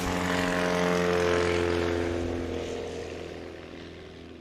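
A STOL propeller airplane at a practice competition roars at full throttle on takeoff, loud and close at first, then fades gradually as it lifts off and pulls away.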